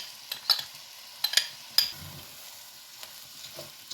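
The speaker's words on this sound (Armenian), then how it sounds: "Հիմա մի փոքրիկ 2-3 րոպե պետք է տապակենք։ Ավելացնում ենք հնդկաձավարը։" A soft, even frying hiss of buckwheat in a pan, broken by a few sharp scrapes and clinks of stirring, with no voices.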